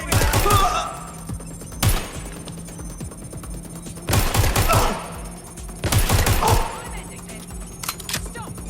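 Bursts of gunfire crack out in the video game Watch Dogs Legion, with four loud rapid volleys separated by quieter stretches where voices speak over background game noise.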